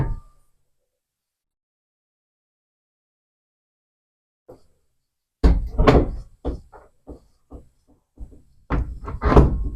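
Double closet doors in a house in Crestwood, Kentucky are opened and closed: a soft knock, then a cluster of clattering thumps and knocks of the door panels, close and alone after near silence.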